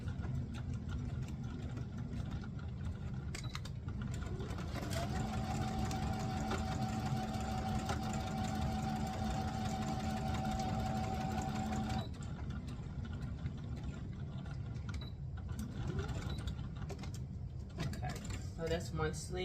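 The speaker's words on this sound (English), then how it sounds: "So we're just gonna sew." A sewing machine stitches a garment sleeve, its even mechanical whir running steadily for several seconds close by amid quieter handling noise.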